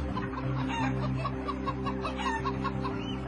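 Caged battery hens cluck continuously and loudly over a steady mechanical hum, with layered, overlapping calls from a dense crowd of birds close by.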